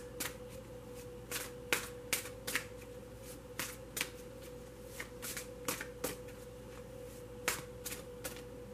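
Vintage Wisdom Oracle cards shuffled by hand in a quiet room, a steady run of crisp riffling bursts and soft slaps repeating about once a second, close and clear with a faint background hum.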